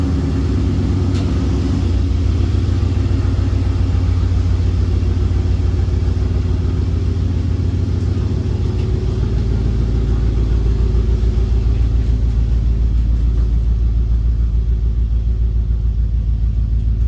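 A 2001 Dodge Ram pickup truck engine rumbles low and steady while driving, a continuous close drone with slight shifts in pitch as it cruises.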